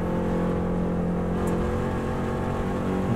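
Subaru race car engine held flat out in fifth gear, a loud, steady, close-up roar with dense harmonic drone that barely changes over the span.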